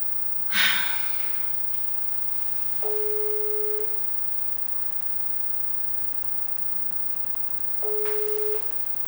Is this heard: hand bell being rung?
no